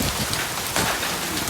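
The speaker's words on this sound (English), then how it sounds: "Okay, so the rain's coming in." A violent summer hailstorm in Tucson, with rain pouring down and hitting surfaces as a dense, loud hiss and patter. A few sharper impacts stand out, and no voices are heard.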